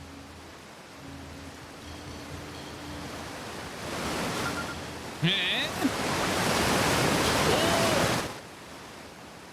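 A waterfall rushes in the video game Outer Wilds, a steady broadband roar that swells louder midway and holds before cutting off abruptly, with a brief exclamation and faint game tones over it.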